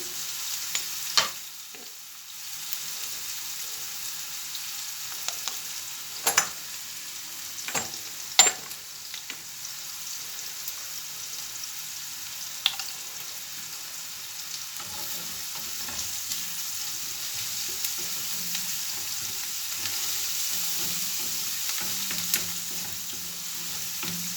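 Chopped onions frying in a pan for Turkish içli köfte, a soft continuous sizzle with occasional sharp clicks and scrapes of stirring, close and steady.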